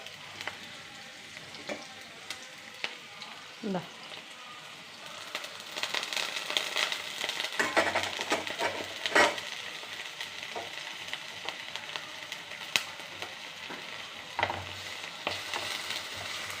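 Sliced onion and ginger frying in a pan for a coconut-milk fish curry, a steady moderate sizzle with occasional crackles and the scrape of stirring, with no voices.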